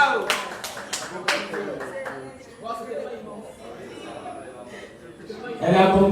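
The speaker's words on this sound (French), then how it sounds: "On applaudit s'il vous plaît" Applause from wedding guests at Julienne and Pascal's wedding: a few loud, separate claps at first, then talk and soft murmuring, and a louder burst of clapping rising at the end.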